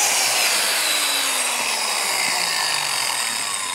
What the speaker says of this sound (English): So the biscuit joiner is very, very handy.